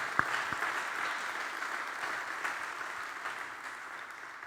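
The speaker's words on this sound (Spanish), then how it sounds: "Dale un fuerte aplauso al Señor" A church congregation gives applause to the Lord during a sermon, a soft, distant wash of many hands clapping, with a couple of sharper individual claps near the start and the sound settling into an even, quieter roar.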